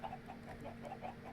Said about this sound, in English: Stupid chickens.